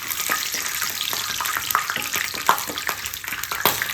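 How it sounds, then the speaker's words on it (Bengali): Peanuts frying in hot oil, a steady bright sizzle with crackling pops and occasional stirring scrapes, close and moderately loud with no voices. "এই বাদামটাকে একটুখানি ফ্রাই করে নেব"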